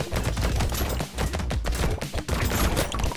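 Turrets firing nonstop in the arena game Brotato, a dense, loud stream of rapid overlapping gunshot pops and bursts with no pauses and no talking.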